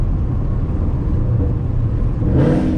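A Ford Mustang GT S197 V8 engine revs on a downshift during an aggressive drive, giving a loud, continuous rumble heard from inside the car that swells briefly near the end.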